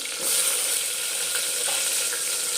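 Spices crackle and sizzle steadily in hot oil as a tempering for drumstick lentil sambar, a dense, loud frying hiss with scattered pops and no talk.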